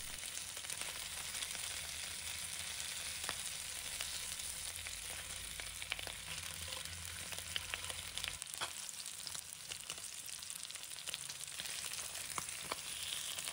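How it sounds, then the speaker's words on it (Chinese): Steady, close sizzling of golden threadfin bream frying in a hot pan, a continuous crackle with scattered pops and no voices. "用锅铲小心地给鱼翻个身，开始煎另一面"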